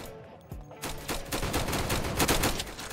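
M4A1 rifle firing in a flag-wars shooter game, a rapid burst of repeated shots starting after a brief quiet moment and continuing steadily, fairly close and loud.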